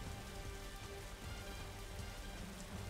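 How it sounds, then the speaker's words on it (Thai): Steady, dense rainfall from the Kaiju Universe video game pours continuously at an even, fairly loud level throughout, with no voices over it. "ฝนก็ตก"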